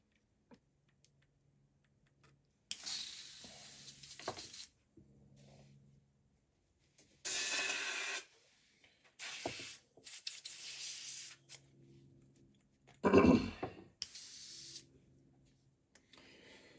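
An airbrush sprays paint onto a fully flocked wood duck drake decoy in several separate hissing bursts of one to two seconds, with quiet handling clicks and taps between them, close to the listener.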